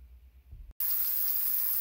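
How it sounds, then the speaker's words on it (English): Tap water gushing loudly into a sink while beef back ribs are washed, bursting on abruptly after a brief quiet moment and continuing as a steady, close rush. "My meat is getting a good wash there."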